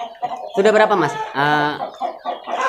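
Brojo chickens from Braja Selebah cluck and call at a two-purpose coop, mixed with nearby men's conversation throughout.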